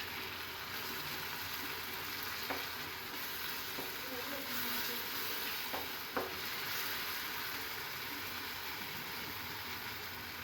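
Egg curry masala fries quietly in a pan while being stirred, a soft continuous sizzle with a few faint utensil scrapes and taps, no talking.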